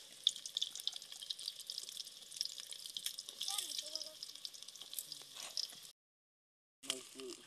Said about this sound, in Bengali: প্রিয় বন্ধুরা এখন আমরা পেঁয়াজ দিচ্ছি। গরম হয়েছে না তেলটা।